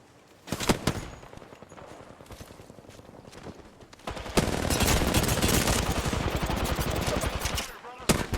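Gunfire in the Apex Legends video game aimed at Caustic's gas barrel: a few sharp shots, then a dense rapid burst of automatic fire, with faint game noise and a voice beneath.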